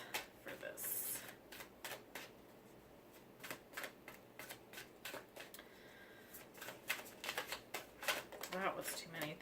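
Tarot cards shuffled by hand in quick, crisp riffling bursts, close and fairly quiet, with pauses between bursts.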